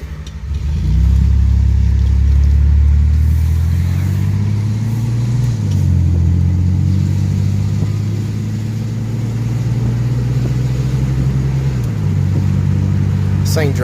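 A Chevy S10 Blazer, newly repaired, drives with a loud, steady low engine drone that swells as it revs and shifts, the rumble continuous and close throughout.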